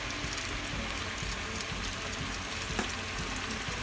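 Potatoes and sweet onions fry in hot oil in a Southern-style skillet, giving a steady, soft, close sizzle and crackle with a few small pops, with no talk.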